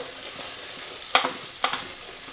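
Stuffed vegetables fry in hot oil in a Kathiawadi-style brinjal, potato, tomato and onion dish, giving a steady close sizzle broken by two sharp scraping stirs of a spoon.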